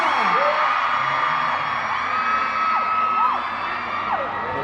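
A large crowd at an idol fan festival screams and cheers continuously, high-pitched shrieks rising and falling in a dense, loud wash of voices with no pauses.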